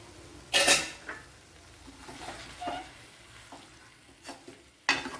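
Okra cooks with onions in a pan for a Kerala-style dish, producing a soft, faint sizzle broken by a few sharp stirring and scraping knocks against the pan.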